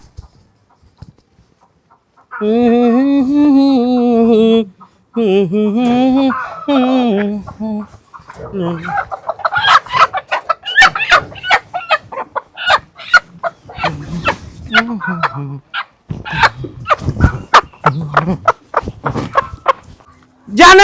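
A rooster crows loudly nearby, then hens cluck and squawk in quick bursts with wing flapping. Someone talks intermittently over the commotion.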